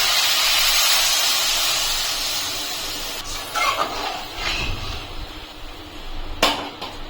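Water splashes into hot masala sizzling in a pan, giving a loud, bright hiss that slowly fades, broken by a few sharp clatters and bursts of spitting.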